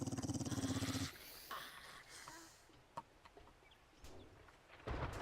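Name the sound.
dog barking in the video game 7 Days to Die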